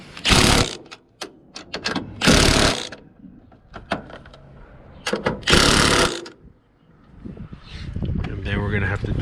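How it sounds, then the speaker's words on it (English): An impact wrench tightening strut bolts on a Nissan Sentra, sounding as several loud, sharp bursts of hammering separated by pauses, with a person talking and tool clatter in the gaps. "we're gonna hit this with the impact"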